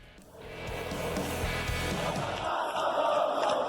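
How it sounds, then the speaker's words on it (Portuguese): Flamengo football supporters in a crowd roaring and chanting, a dense fairly faint wash of voices with some rumble, swelling slightly toward the end. "Por falar em festa, Gabriel, quero o grito da torcida."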